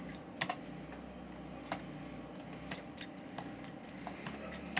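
HTML code is typed on a computer keyboard, giving a continuous patter of keystrokes with occasional sharper taps over a faint steady room hum, and no one speaks.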